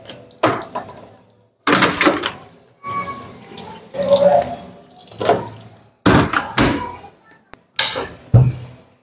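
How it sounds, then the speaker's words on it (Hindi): A Godrej washing machine rinses clothes in clean water: repeated bursts of splashing and gushing water, each lasting about a second, separated by short pauses, with a few thunks and drips in between. "ये देखिए इस तरह से ये साफ पानी से धुलेंगे हमारे कपड़े"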